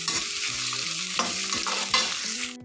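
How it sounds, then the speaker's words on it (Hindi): Onions fry in hot oil while a utensil stirs and scrapes the pan, steady sizzling with a few sharp knocks, close and alone. "प्याज को गोल्डन ब्राउन फ्राई करना है।"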